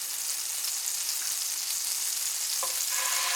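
Teriyaki chicken wings brushed with butter or margarine sizzle in a hot pan, a loud, steady close-up hiss with a few faint clinks near the end.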